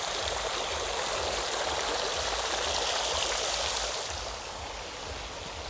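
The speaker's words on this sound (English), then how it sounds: "We've got a nice little waterfall feature." A small waterfall feature at a luxury home pool pours steadily, a broad continuous rushing splash that holds evenly and then eases slightly softer toward the end.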